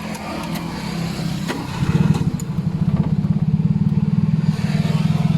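A small tuk-tuk engine sputters to life and settles into a rapid, chugging idle, close and loud, with a rhythmic putter continuing to the end.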